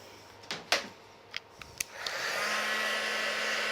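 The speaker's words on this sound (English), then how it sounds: "I'm going to just give it a quick heat with the heat tool to make sure it's set" A craft heat tool blows hot air over a handmade silhouette moonlit forest card, starting after a few sharp clicks and taps and then holding as a steady, close whooshing hiss to the end.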